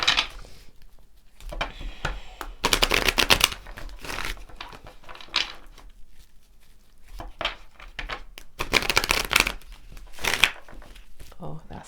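Tarot cards are shuffled in irregular crisp riffling and slapping bursts, some loud and close, with quieter handling between them and a voice talking at times.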